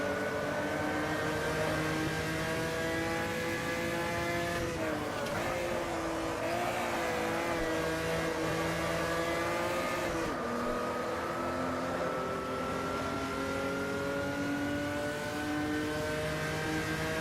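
Opala '86 stock car engines race at Interlagos in a video game, a continuous throaty drone with pitch rising and dropping through gear changes and corners, steady and loud without speech.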